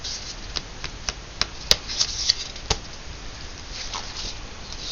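Paper and light cardstock being handled and shuffled up close, with soft rubbing and a few crisp ticks and snaps over a quiet background.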